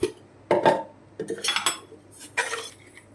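A metal spoon clinks and taps against a bowl while sugar goes into water for khaman dhokla, four or five short bright knocks spaced apart, close and fairly quiet, with no talking.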